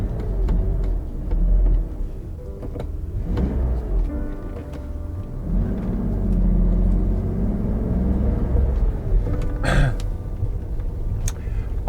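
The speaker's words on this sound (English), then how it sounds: "V12 sound on a CSI is actually not that loud, but in this case, it's a little bit better" A BMW 850 CSi with a 382-horsepower V12 running, a low steady engine rumble that swells and eases with revs over road noise, with no talk.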